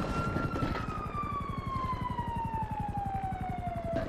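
A police siren wails steadily with a slowly falling tone over a rumbling engine, fairly close and continuous, with no talking.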